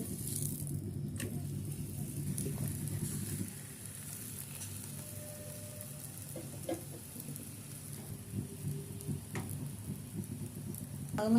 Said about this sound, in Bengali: এখন ভেজে নেব এভাবে একটা একটা দিয়ে